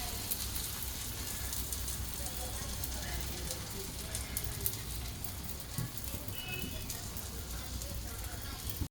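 Jowar flour ghavan flatbread sizzling on a pan with no oil added, a continuous dense crackle that holds steady and close throughout.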